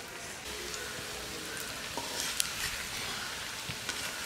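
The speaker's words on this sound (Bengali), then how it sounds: "পেঁয়াজ কুচি, পেঁয়াজগুলো একটু লাল করে ভেজে নেব।" Chopped onions frying in oil until reddish, giving a steady, soft sizzle with faint crackles and an occasional light tap of a utensil, with no voices.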